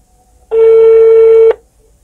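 A single loud steady telephone tone holds for about one second on its own, like a dialing or call tone on a phone being used to call someone.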